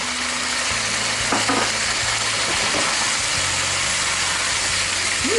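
Spicy shark pieces stir-fried with chilies in a wok, a steady loud sizzle running under clanks of stirring throughout.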